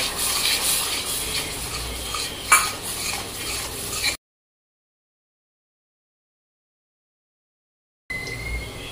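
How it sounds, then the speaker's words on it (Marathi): Yogurt and spice mixture being stirred into taro (arbi) frying in hot oil in a pan, with steady sizzling and scraping for about four seconds, a sharp clink midway, then silence before the sizzle resumes. "दह्यामध्ये मिक्स केलेले सर्व मसाले आपण घालून मिक्स करून घेऊयात।"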